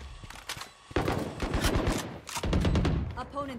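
A pistol fires repeatedly in the shooter game Valorant, a quick run of close, sharp cracks in two clusters amid game noise, while someone talks excitedly over the shots.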